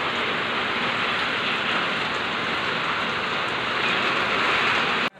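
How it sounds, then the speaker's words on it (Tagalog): Heavy rain and strong wind during Typhoon Karina, a dense, constant roar of downpour close by with no pauses, loud and unbroken until it cuts off abruptly at the end. "paririnig nga yung lakas nga ng ulan at hangin"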